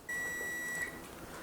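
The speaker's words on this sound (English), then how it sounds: "our timer is now up" A kitchen timer goes off during home beer brewing, sounding one sustained high electronic beep of about a second, clear and fairly close against a quiet room.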